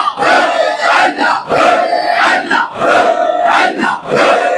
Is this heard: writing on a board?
no